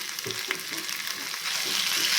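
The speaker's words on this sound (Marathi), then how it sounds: "हा दोन मिनटे जिऱ्यासोबत तुपासोबत आपण परतून घेऊया" Ghee sizzling with cumin seeds, ginger and green chili paste being sautéed in a pan for a fasting-day varai (barnyard millet) dish, a bright, steady hiss with soft stirring scrapes, close up and without speech.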